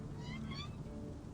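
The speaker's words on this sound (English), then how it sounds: "Who cares about specialty drinks when you have these fluffy little kitties to play with" A pair of cats meowing in the Genshin Impact video game, faint high-pitched mews one after another over a soft background.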